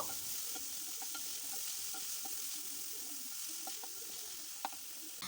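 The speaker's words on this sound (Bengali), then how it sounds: "এবার দেখো আমরা চপ করে রাখা পেঁয়াজটা দিয়ে দিচ্ছি। দেখো পেঁয়াজটা দিয়েও এবার নাড়াচাড়া করে নেব।" Chopped onion frying in hot oil with garlic and ginger, giving a steady, even sizzle throughout with a few soft stirring scrapes and clicks from the spoon, close and moderately quiet, with no talking.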